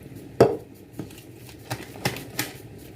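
A cooking pot is washed, giving several separate knocks and clanks of metal at irregular intervals over a quiet background.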